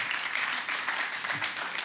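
Audience applause during a gospel singing competition, moderate continuous clapping heard from a little distance for about two seconds, even and unbroken.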